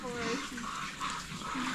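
Dogs at a family home make whining, yelping sounds at close range, brief and mixed with people talking nearby.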